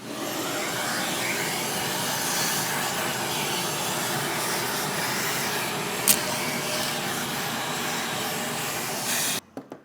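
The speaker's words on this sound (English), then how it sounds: "I'll use my brush to kind of get things along and suck it into the vacuum" A vacuum cleaner pulls ash and debris out of a fireplace while a brush sweeps material toward the nozzle, giving a steady, loud whooshing drone that cuts off abruptly near the end.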